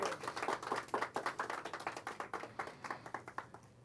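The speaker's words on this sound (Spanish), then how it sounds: "Un aplauso para el Eterno entonces." A congregation applauds at a church service, a close, brisk patter of many hands clapping in a steady burst that gradually thins and fades toward the end.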